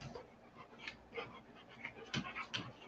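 A playful dog pants quickly and faintly close by, the breathy rhythm broken by a few small whimpers and snuffles, with no talk.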